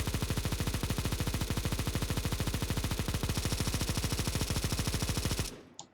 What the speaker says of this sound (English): going to the Negev now, and this suppressing fire stuff